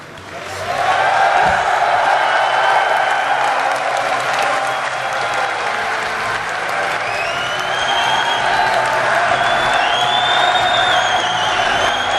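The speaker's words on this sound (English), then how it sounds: "Please give a round of applause to our champion." A large audience applauds the StarCraft 2 GSL champion, with loud, sustained clapping and scattered cheers and whistles filling an arena and holding steady throughout.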